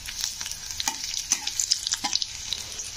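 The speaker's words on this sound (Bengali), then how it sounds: "শুকনো লঙ্কাগুলো একটু ভেজে নিলাম" Two dried red chillies fry in hot oil over low heat for a red amaranth stir-fry, giving a close, steady crackling sizzle with frequent light stirring scrapes and no talk.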